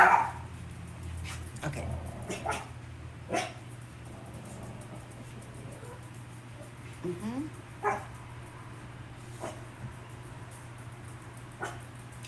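Dogs barking in the background, several short sharp barks scattered across the stretch, faint and somewhat distant beneath a steady low hum, while a person briefly speaks.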